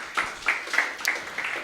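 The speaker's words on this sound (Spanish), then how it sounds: "un aplauso para el grupo 1" A small group in a Bible study class gives a short, faint round of applause for a study group, with scattered claps and no talking.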